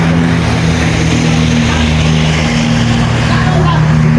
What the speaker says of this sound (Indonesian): Ini motor ramai sekali. Motor juga banyak.